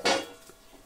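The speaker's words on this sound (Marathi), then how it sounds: "आणि हे ताट असं टाकायचं" A metal plate is set down during cooking, giving one sharp clattering clank followed by a brief faint ring, close and alone.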